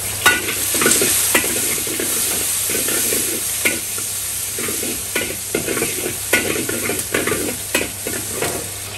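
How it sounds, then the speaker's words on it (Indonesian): Garlic, onion, bay leaves and lime leaves stir-frying in a hot pan, a loud steady sizzle with repeated scraping and clacking of a spatula stirring, no voices. "Kita tumis nih bawang putih tadi cuma digeprek doang."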